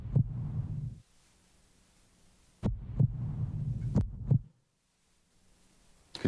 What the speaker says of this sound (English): Could you hear that? That was my heart beating for my mother.